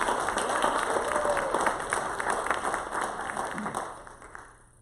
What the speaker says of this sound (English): Let's give her another big round of applause and bring her on.